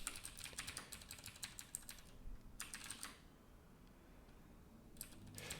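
Rapid clicks of fingers typing on a computer keyboard come in bursts separated by brief pauses, quiet and close with no talking.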